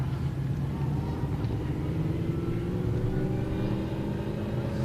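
A speedway race car roars steadily along the back straight at a night race meeting, a loud continuous engine drone with a deep rumble that holds without letup.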